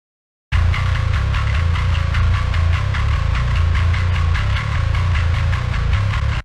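A distorted second bass guitar track soloed from a metal mix plays as a dense, buzzing, grinding drone with rapid picked pulses, loud and continuous after a brief silent start, stopping abruptly at the end.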